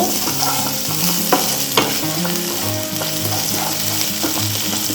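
Ginger garlic paste fries loudly in a pan for a cauliflower, potato and tomato curry, giving a steady close sizzle broken by occasional scrapes of stirring, with no talking.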